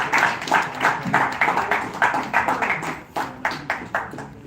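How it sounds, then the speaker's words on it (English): A small audience claps with pulsing, uneven bursts that swell and fade over several seconds, nearby and without talking. "ladies and gentlemen, big round of applause for Himanshu Devaskar"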